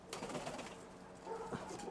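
Soft, low pigeon coos murmur close by in a short burst, a gentle rolling warble repeated over a couple of seconds.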